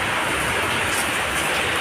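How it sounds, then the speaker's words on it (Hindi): Dense, steady rain hisses without a break in a flooded city, a broad wash of heavy downpour with strong wind. "अभी तो और भी तेज हो गई बारिश"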